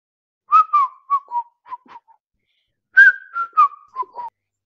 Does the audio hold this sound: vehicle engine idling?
no